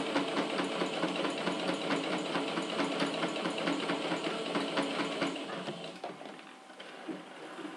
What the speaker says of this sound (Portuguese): eu dou um retrocesso também, porque quando formos desvirar a peça, a costura não desmanche